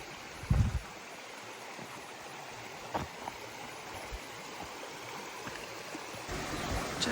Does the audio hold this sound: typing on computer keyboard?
no